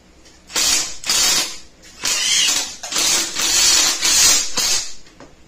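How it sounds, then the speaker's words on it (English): A power drill driving a self-tapping screw into a metal mining-rig frame, loud whirring and grinding bursts in short runs with brief pauses, close by. "I should be safe running this self-tapping screw in about right here."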